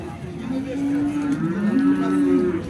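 A young dairy cow at the Yakkatut livestock market in Andijan gives one long, drawn-out moo close by, loud and sustained over the background murmur of the market.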